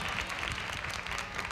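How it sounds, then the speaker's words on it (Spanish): Circus audience clapping for the Valentinos act, a brief, dense burst of applause, steady and moderately loud from start to finish. "Un aplauso."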